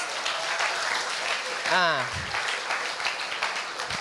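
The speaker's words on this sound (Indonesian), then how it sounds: "Tepuk tangan dong buat SMA 45" Audience applause for SMA 45 at a stand-up comedy show, a continuous wash of clapping with a voice briefly rising over it midway.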